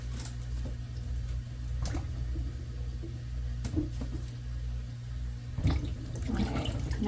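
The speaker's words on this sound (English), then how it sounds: "I am going to be washing my apples." Apples being washed by hand in a basin of warm water, with steady sloshing and splashing, a few louder dunks and swishes near the end, close and alone without talk.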